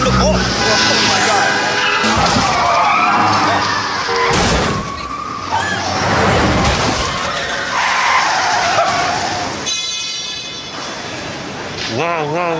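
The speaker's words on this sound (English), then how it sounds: "this car crashed" Car crash in a live-action street hacking stunt, with loud skidding, sharp impacts and shattering glass amid excited voices and a steady wash of street noise.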